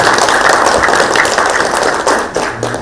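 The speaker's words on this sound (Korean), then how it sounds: "환영의 박수 부탁드리겠습니다." A live debate audience welcomes guest Lee Jun-seok with a loud, steady round of applause, dense clapping that holds for nearly three seconds before easing slightly at the end.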